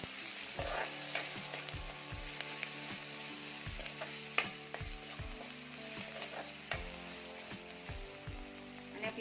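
Onion frying in oil in a pan with a little salt, a steady close sizzle broken by repeated sharp scraping stirs of a spatula at irregular intervals.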